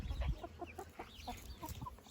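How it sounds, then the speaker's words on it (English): Silver Laced Wyandotte and Speckled Sussex hens clucking close by, a run of short soft clucks and murmurs at an uneven pace over a low background rumble. "These are the white silver lace Wyandottes. They are so curious. And the speckled Sussex."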